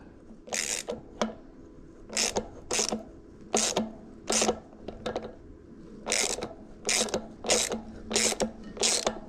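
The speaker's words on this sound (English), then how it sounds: "I'm going to take the same deal that I used for my axle nuts to screw on this jam nut." An M12 x 1.25 jam nut is turned by hand onto the rough-threaded axle of a Bafang G62 hub motor, making close, repeated scraping ratchet-like bursts in a halting rhythm with short pauses between turns.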